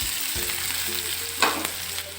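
Chopped onion stirred into yogurt curry in a pan, heard as a close sizzle with a few spoon scrapes and a short clatter, no voices.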